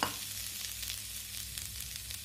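Coconut and jaggery fry in a heated kadhai for a Bengali pitha sweet, giving a steady, close sizzle with faint crackles that runs unbroken the whole time, with no voices.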